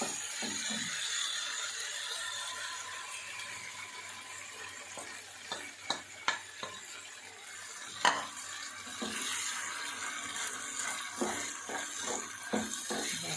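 Beaten eggs poured into a pan of macaroni and stirred, with a soft steady sizzle underneath and intermittent spoon scrapes and taps against the pan, close and moderately quiet.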